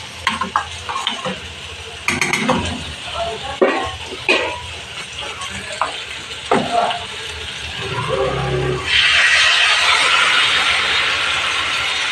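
Boiled dal poured into spices frying in a pan, a series of close clinks and scraping stirs, then a rising loud sizzle and hiss as the liquid hits the hot oil.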